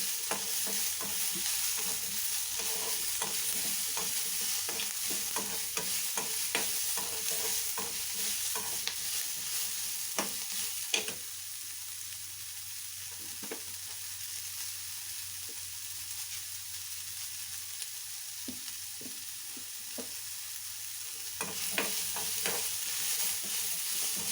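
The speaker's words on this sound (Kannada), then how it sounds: "ಫ್ರೈ ಆಗ್ತಾ ಬರ್ತಾ ಇದೆ." Potato and chickpea sambar ingredients fry in a pan, a constant sizzle with a spatula stirring and clinking now and then, close and steady.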